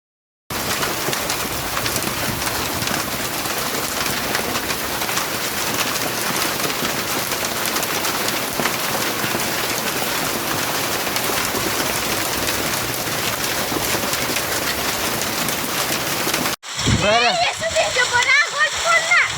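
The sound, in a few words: heavy rain with hail falling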